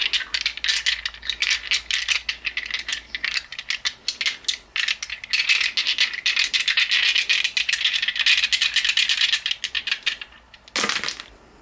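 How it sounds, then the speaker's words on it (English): Dice rolled and shaken, giving a dense, continuous rattling clatter, loud and close for most of the span, ending with a sharp final clack; no voices. "Now let's do the rest of the dice."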